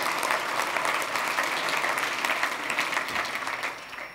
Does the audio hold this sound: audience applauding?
yes